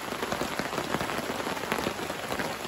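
Steady rain patters on a close tent canopy in a forest, a dense crackle of drops with no voices.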